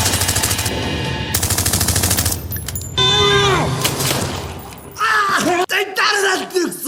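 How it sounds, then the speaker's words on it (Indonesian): Rapid bursts of gunfire from an action film scene with yakuza and mafia gangsters, loud rattling volleys mixed with sharp shots, screams and a spoken voice over the top. "Dengan cepat, Lina menembak lututnya."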